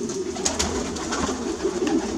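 Pigeons in a breeder's loft cooing in a low, steady murmur, with several birds overlapping continuously at close range and a few brief higher calls rising above the drone.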